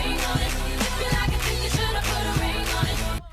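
A pop beat repeats the same thumping drum pattern over and over, loud and mechanical, with a low synth line, cutting off abruptly at the end.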